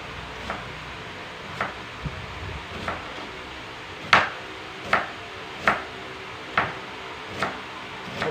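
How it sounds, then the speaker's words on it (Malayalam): A knife chops food on a board, giving about a dozen sharp knocks at a slow, uneven pace, close and fairly crisp, with no talking. "അരിഞ്ഞെടുക്കട്ടെ കേട്ടോ"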